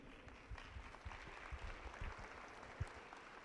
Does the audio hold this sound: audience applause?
yes